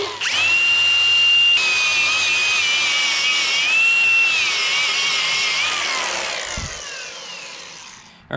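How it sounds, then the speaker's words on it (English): A power drill whines loudly and steadily as it bores holes in a custom loader manifold bracket on an old Bolens tractor, the pitch sagging slightly under load before winding down near the end, with no voices. "We'll get our holes marked out and drilled so we can get it bolted in place."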